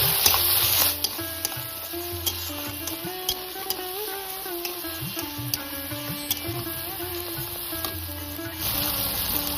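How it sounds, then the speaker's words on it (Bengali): Ginger paste frying in a pan for a Bengali prawn malai curry, a steady close sizzle with occasional sharp ticks and scrapes of stirring, no voices. "আদাটা একটু ভালোভাবে কষিয়ে নেব, তাহলে আদার কাঁচা গন্ধটা চলে যাবে।"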